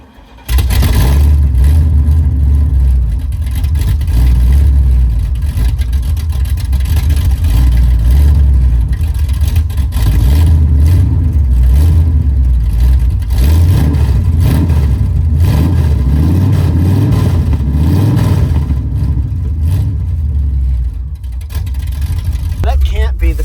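A 502 big block V8 in a squarebody truck runs with open headers, rumbling loud and close through repeated revs and a rough idle, while people talk over the engine throughout.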